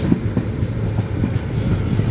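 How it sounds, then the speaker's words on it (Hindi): Gorakhpur Panvel Express train passing close by on Indian railway tracks, a short burst of loud rumbling wheel noise with rapid clattering rhythm over the rails. "ये गोरखपुर पनवेल एक्सप्रेस।"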